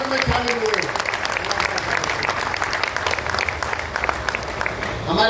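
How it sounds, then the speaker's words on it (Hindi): Enthusiastic applause at an event in the Delhi Legislative Assembly welcoming Kiren Rijiju, a loud sustained clapping crowd, with a voice over the start and the end. "जोरदार तालियों से आवाज, तालियों में मजा नहीं आया।"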